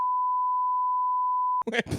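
A steady, loud censor bleep tone holds for about a second and a half over swearing in a podcast conversation, then cuts off abruptly as a voice resumes talking.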